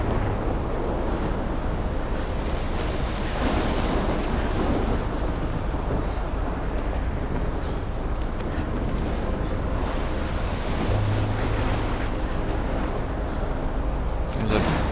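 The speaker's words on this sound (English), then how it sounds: "Big old storm though." Stormy wind and crashing waves in the video game Life is Strange, a loud continuous roar of gusts and surf filling the whole stretch without pause.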